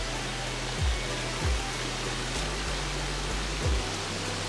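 Stewart Falls, a waterfall pouring into a riverbed at Haast Pass, New Zealand, gives a steady broadband rush of falling water, continuous and moderately loud, with a few low thumps from handling noise.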